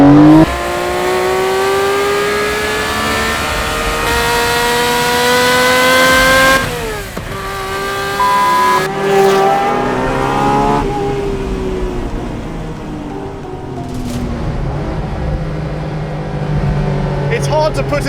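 A Tuthill Porsche 911K race car accelerates hard, its engine note climbing through the gears with sharp shift breaks and revving, loud and close throughout, with a voice talking over parts of it.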